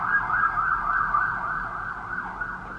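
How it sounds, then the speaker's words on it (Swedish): A police car siren wails steadily along a street, loud and close with a smooth rising and falling pitch and a low motor rumble beneath, and no voices. "nu kommer polisbilen igen"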